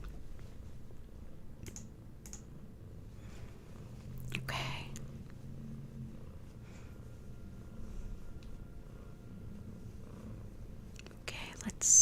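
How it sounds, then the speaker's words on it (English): A cat softly purring on a lap, faint and low beneath quiet, close talking, with a few light clicks and rustles. "So you'll probably hear some purring if you don't already."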